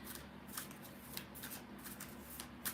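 A deck of playing cards is shuffled by hand at close range, with quiet repeated riffling flicks and soft slaps in a steady rhythm over a low background hum.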